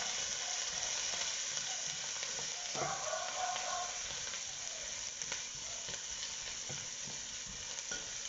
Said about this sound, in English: I'm going to give that a quick stir. Just till our onions are translucent.